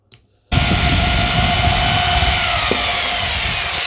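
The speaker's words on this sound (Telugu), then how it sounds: "మీరు ప్రస్తుతాన్ని నేను డ్రిల్లింగ్ మిషన్తో వేస్తాను" A drilling machine starts suddenly and runs in a loud, steady, high roar while boring a larger hole through a plastic water bottle cap, close to the microphone and sustained to the end.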